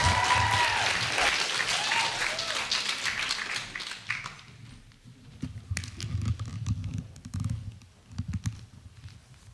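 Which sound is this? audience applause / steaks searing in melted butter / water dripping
audience applause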